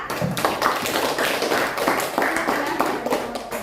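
Classmates in a classroom clap together for a presenting group, a steady patter of hand claps lasting a few seconds at close range, loud and continuous with no talk over it.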